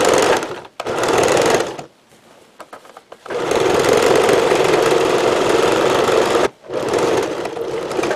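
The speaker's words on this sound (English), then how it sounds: "So now we're just going to sew our button front together all the way up." A sewing machine stitching up the button front of a workwear shirt apron, running in loud steady bursts with a brief stop and restart, close by and without talking.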